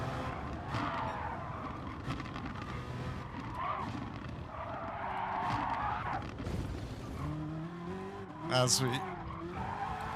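A GT3 race car's tires skid and squeal at Mount Panorama in a racing game, engine droning throughout with a louder squeal burst near the end, while someone talks.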